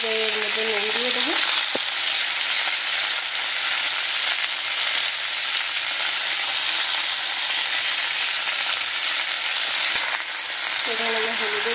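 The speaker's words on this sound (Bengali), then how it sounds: "তো আমি এর মধ্যে দিয়ে দেবো সবজিগুলোকে" Mixed vegetables including pointed gourd, ridge gourd and drumstick frying in oil tempered with spices: a loud, steady sizzle fills the whole stretch, with a voice briefly heard at the start and end.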